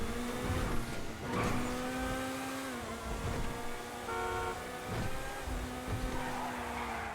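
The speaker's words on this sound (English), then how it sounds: "I'll let you guys actually listen to the engine sound if you were curious as to what it sounded like here." Pegasi Reaper sports car engine in GTA 5, revving repeatedly with rising and falling pitch between gear changes, loud and close, with brief bursts of tire noise.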